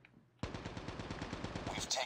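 A rapid burst of automatic fire from an HVK-30 rifle in Call of Duty: Mobile, sharp, close and continuous after a brief quiet start, with a faint extra blip near the end.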